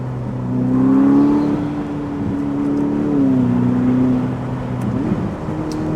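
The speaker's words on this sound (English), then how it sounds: "So people, let's give it full throttle from 0 kilometers per hour." A Ferrari SF90 Spider, a roughly 1000 hp four-wheel-drive hybrid, accelerates hard from a standstill at full throttle, its engine note rising in a loud smooth whine that climbs through gears with brief dips between them.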